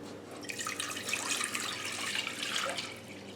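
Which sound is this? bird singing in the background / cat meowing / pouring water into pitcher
pouring water into pitcher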